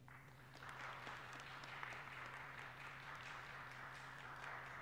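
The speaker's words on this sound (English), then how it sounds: "Please give a warm Downtown Berkley round of applause to Pastor Dunlap and the Berkley" Audience at a symphonic concert in downtown Berkley giving a steady round of applause, a soft, even clatter of many hands heard from a distance, holding for several seconds over a low hum.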